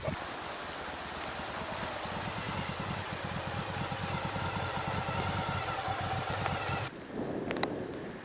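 Steady rain falls outdoors at a remote Far North Queensland bush site near an old miner's cottage, a dense continuous hiss with wind noise throughout that drops briefly near the end, with no one talking.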